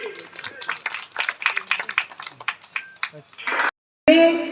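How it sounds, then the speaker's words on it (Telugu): Audience at a Jai Bharat office inauguration in Sunnipenta, Srisailam, breaking into a brief burst of brisk, uneven hand clapping that thins out after about three seconds, with voices mixed in near the end. "అందరూ కూడా చప్పట్లు కొట్టండి."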